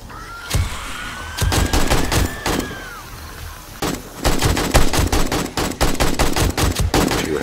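Gunfire at zombies in the video game 7 Days to Die: loud, close bursts of rapid automatic shots separated by short pauses, building to a long, dense volley in the second half, with no talking.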